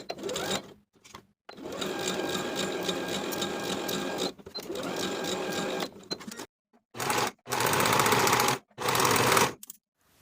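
Sewing machine running in bursts while stitching the curved bottom edge of a shorts pocket seam, several steady mechanical runs separated by short pauses, close and clear.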